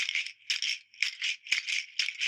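A seed rattle shaken in a steady rhythm, giving bursts of dry, bright swishing about twice a second, close and clear.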